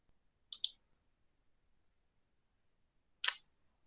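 A computer mouse clicking: a quick double click early, then a single click about three seconds later, sharp and close against silence.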